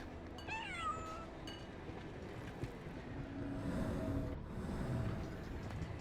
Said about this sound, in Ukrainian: а ось і кіт